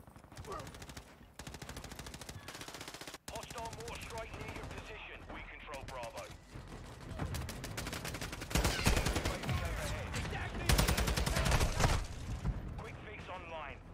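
Sentry gun in Call of Duty MW2 firing in long rapid automatic bursts, loud and close, with heavier volleys toward the end, mixed with other game gunfire while a player talks over it.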